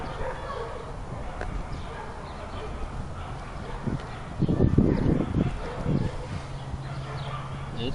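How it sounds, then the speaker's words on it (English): Several dogs bark outdoors on a summer day, a cluster of fairly loud barks in the middle of the clip over a steady background hum. "It's summertime, dogs are all out."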